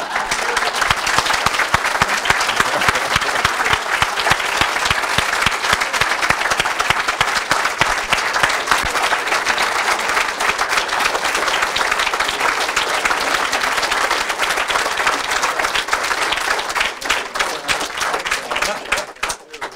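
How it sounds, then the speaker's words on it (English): Loud, sustained audience applause greets a speaker at Republican Headquarters, dense steady clapping from a crowd that goes on for about twenty seconds and thins slightly at the end. "We'll all give him a round of applause"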